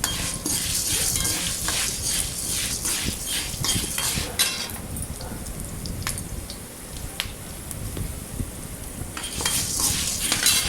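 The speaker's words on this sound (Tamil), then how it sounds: "இப்போ நம்ம இது கூட எடுத்து வச்சுருக்க வத்தல் சேர்த்து ஒரு வறுத்துக்கலாம்." Black urad dal and dried red chillies dry-roasted in a pan, with repeated scraping and clinking of a spoon stirring against the metal at an uneven rhythm, close up and fairly quiet, with no talk.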